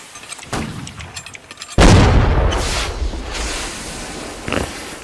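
Ship cannon fire in a Holdfast naval battle: a single loud, close boom with a long rumbling tail, after fainter distant shots and sea ambience.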